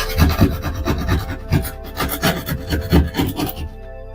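A rasp is worked along a drywall edge to smooth it, giving steady repeated scraping strokes in a close, rhythmic back-and-forth that stops near the end.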